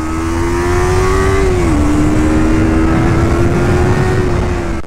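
A Yamaha R3 motorcycle on the Modlin race track gives a loud, steady engine drone that holds one pitch, dips briefly, then climbs slowly, close to the rider and unbroken throughout.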